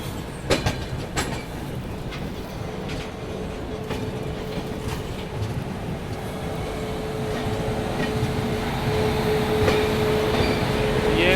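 A local train rolls into Ghaziabad junction with a continuous rumble, rhythmic wheel clatter and a few sharp clanks, growing slightly louder toward the end.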